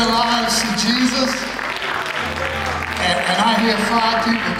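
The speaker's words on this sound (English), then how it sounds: "I hear five people clapping" Scattered applause from a small handful of people in a church service, a thin, steady patter of claps mixed with crowd noise and a voice speaking.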